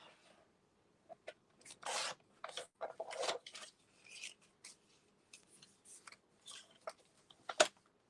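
Paper pieces cut with a trimmer for a Stamperia folio project, heard as a string of short rasping slices and scrapes of varying length, close and fairly quiet, with a sharper snap near the end.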